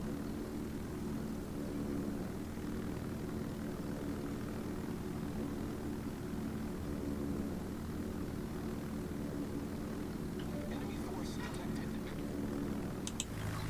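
A Supermarine Seafire's engine in a flight video game drones steadily at moderate volume, a continuous low propeller-engine hum with a few faint clicks near the end.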